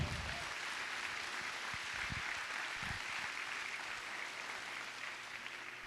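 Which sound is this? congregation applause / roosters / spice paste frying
congregation applause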